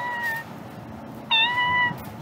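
A Zuru Pets Alive battery-powered toy cat gives a short electronic meow, then after a pause a longer, louder two-part meow, heard alone over faint background hiss.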